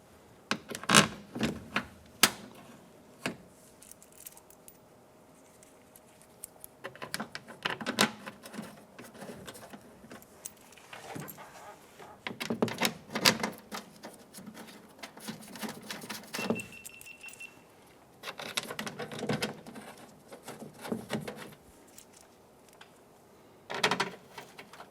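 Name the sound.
installing bolts on Nissan Rogue door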